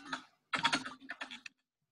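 Quick keystrokes on a computer keyboard, close and fairly quiet, in two short bursts of clattering taps separated by a brief pause, then silence.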